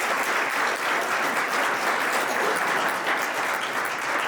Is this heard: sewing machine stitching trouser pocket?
no